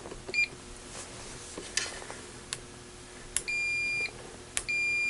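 A digital multimeter in continuity mode sounds steady electronic beep tones, a short one then two longer sustained beeps, clean and fairly quiet over faint clicks and low room hiss.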